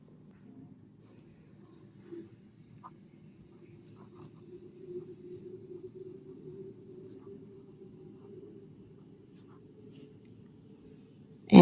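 A pen writes numbers by hand on paper for a class 7 maths exercise, making soft, continuous, close scratching strokes in a quiet room.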